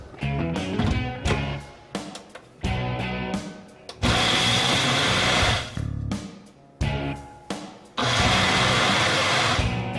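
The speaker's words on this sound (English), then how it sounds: "We're gonna throw some ice on top of this and blend it up." A blender crushes ice into a drink in loud, close pulses, whirring hard for a few seconds at a time with brief pauses between bursts.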